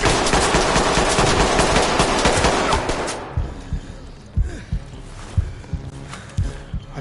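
Gunfire in the tactical shooter Ready or Not, with a heavy, continuous burst of close automatic fire that suddenly stops, followed by scattered single shots and thuds at irregular intervals.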